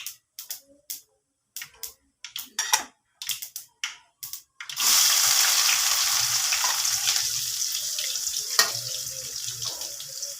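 Spring onions fry in a pan for egg fried rice, a steady loud sizzle starting partway through after a run of light clattering taps and knocks, continuing close and constant to the end.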